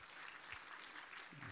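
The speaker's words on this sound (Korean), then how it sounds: "박수 한번 하시죠." A church congregation at a Sunday evening worship service gives a short burst of applause, a soft, continuous patter of clapping heard from a distance at low volume.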